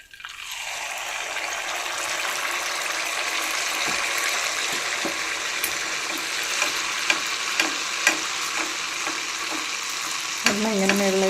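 Neyyappam rice fritters deep-frying in oil with oil spooned over them, a strong, constant bubbling sizzle up close, punctuated by a few light clinks and a metallic tap near the end.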